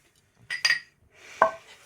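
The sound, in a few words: plate of luchi being moved away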